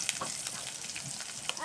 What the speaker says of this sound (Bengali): রসুনগুলো হালকা হালকা ভাজা হোক।